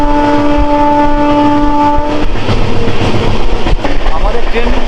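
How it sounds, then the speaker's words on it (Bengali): A train runs at about 127 to 129 km/h, heard from onboard as a loud, constant rumble and rush. A steady tonal hum fades after the first couple of seconds, and sharp clacks break through near the end. "আমাদের ট্রেন ঘন্টায় 127 থেকে 129 কিলোমিটার গতিবেগে দৌড়াচ্ছে।"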